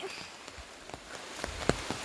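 Soft, scattered patter of rain with occasional louder drops hitting a surface, steady and fairly quiet throughout, with no voices.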